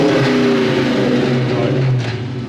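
A barn-find car revs hard through a loose, broken-sounding exhaust, a loud rough engine roar held near and steady before easing off slightly at the end.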